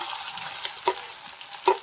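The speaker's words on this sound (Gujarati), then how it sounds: "રાઈ જીરું સરસ તતરી જાય પછી આપણે તેમાં ડુંગળી એડ કરીશું" Oil sizzling and spluttering in a pan as mustard seeds and cumin crackle during tempering, about to receive onion; a steady fry hiss with two sharp pops near the end, close and fairly quiet.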